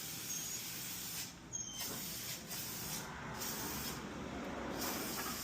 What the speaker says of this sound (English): I'm gonna spray everything where the metal touches the metal up here on the track